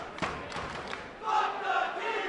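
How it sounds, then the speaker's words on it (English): A wrestling arena crowd reacts as a wrestler enters the ring during a women's tag-team match, a dense murmur of voices rising into a louder swell of gasps and cheers partway through. "a collective gasp comes out in the crowd when Kong"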